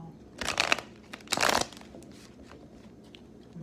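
Tarot cards shuffled by hand in two short, close bursts of crisp papery riffling, followed by quieter faint rustling and near silence.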